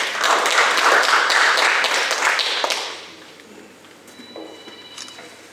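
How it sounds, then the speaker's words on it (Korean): Audience applause welcoming a speaker to a heritage discussion forum in Naju, a dense burst of clapping that fills the room for about three seconds, then thins out into scattered claps and quiet. "박수로 맞아주시기 바랍니다"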